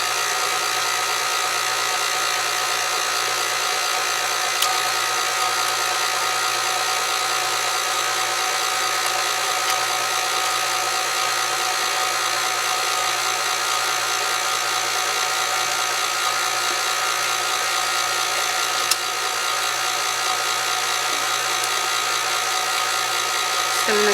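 An electric mixer with whisk attachments whirs at a constant high pitch while beating sour cream for a banana cake, a steady close buzz that runs unbroken for the whole stretch with no voices.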